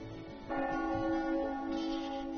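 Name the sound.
church bell ringing in the video game Trails of Cold Steel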